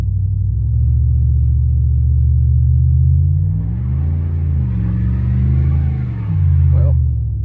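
A 2007 Dodge Ram 1500 pickup with a 5.7 Hemi V8 in tow haul mode drives uphill, its deep engine rumble steady and close, rising and falling as revs change.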